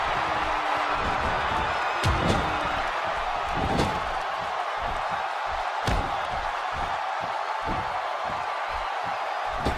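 Virtual arena crowd in the WWE 2K16 wrestling game, during a Jerry Lynn vs Austin Aries match, roaring steadily throughout, with repeated sharp slam thuds from the ring cutting through, heavier toward the end.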